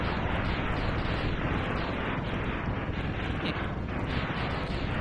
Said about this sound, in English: They really go overboard with the explosions in this game.